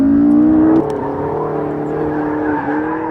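A McLaren sports car engine drones loudly and close on a track, its tone sustained and fairly even with a brief shift early on, as the car powers out of a corner.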